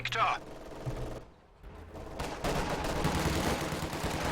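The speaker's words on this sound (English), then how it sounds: "they run into MG42 fire and forced retreat" MG42 machine gun fire in a World War II strategy video game, with bursts of rapid gunfire and battle noise rising into a dense, loud volley near the end.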